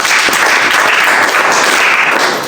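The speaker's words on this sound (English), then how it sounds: "Please let's clap for you." An audience at a talk on teenage drug abuse bursts into loud, dense, sustained applause, many hands clapping together up close and filling the whole moment without voices.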